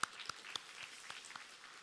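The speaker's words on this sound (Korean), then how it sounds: "박수로 환영하겠습니다" A church congregation gives faint, sparse applause to welcome a new family member, scattered individual claps sounding distant and soft across the sanctuary.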